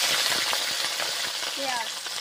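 Cinnamon, dried chilli and white cardamom frying in hot oil, a steady bright sizzle with soft stirring scrapes and a brief metallic clink, close and with no talking.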